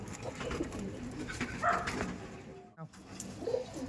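Pigeons coo softly in a close, busy loft, with low murmuring calls and some background rustling and noise throughout.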